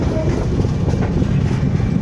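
A passenger train runs with a steady low rumble and rushing noise heard from inside the carriage, continuous and fairly loud, with a faint voice in the background.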